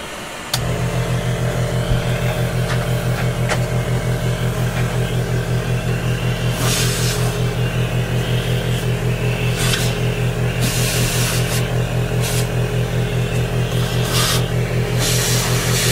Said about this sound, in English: So here goes the vacuum.